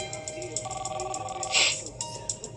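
A telephone rings in repeated electronic bursts at moderate volume, with a short louder noise partway through, indoors.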